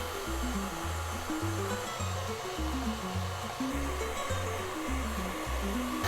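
Stand mixer with a pasta extruder attachment, its auger turning while making pasta for pasta alla vodka: a steady motor whine with a regular pulsing grind, running alone without talk.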